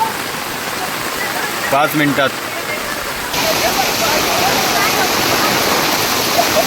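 Heavy rain and rushing water in a Konkan village make a loud, steady wash that swells partway through, with a short spoken phrase near the start.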